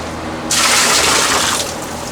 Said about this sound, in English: I pour half into this one, do the swirl